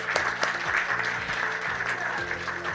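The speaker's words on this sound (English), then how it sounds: "Big round of applause for Helen." An audience at a regional Memory of the World committee meeting for Asia and the Pacific claps for Dr. Helen Jarvis, moderate steady applause over a low musical hum.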